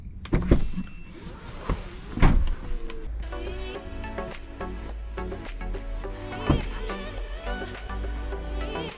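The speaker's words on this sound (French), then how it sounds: "la voiture est programmée pour s'ouvrir à l'approche du téléphone" An aftermarket Hansshow automatic door opener on a Tesla Model 3/Y gives a few knocks, then a steady motorized whir as the door swings open on its own. The sound is close and moderately loud, with no talking.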